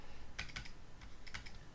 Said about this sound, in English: if we just type that into the calculator